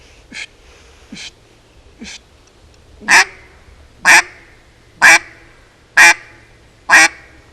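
A duck call is blown to imitate a duck, giving seven evenly spaced raspy quacks about a second apart, the first three softer and the last four louder and close.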